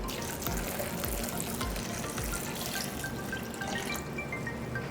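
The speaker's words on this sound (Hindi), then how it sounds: "और 1 गिलास पानी है, ये इसमें ऐड कर देते हैं।" A glass of water is poured into a falsa fruit drink mixture with black salt, giving a steady splashing, trickling flow close by that continues for a few seconds without any talking.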